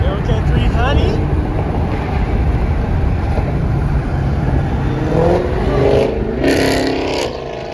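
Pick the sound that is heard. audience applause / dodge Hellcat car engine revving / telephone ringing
dodge Hellcat car engine revving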